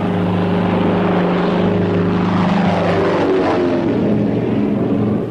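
Loud, steady drone of World War II bomber propeller engines during a bombing raid over Tokyo, a continuous dense roar with no pauses and no voices.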